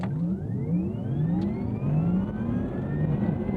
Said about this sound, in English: Let's give you a launch.